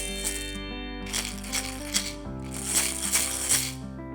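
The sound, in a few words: shaking homemade maracas filled with mung beans or kidney beans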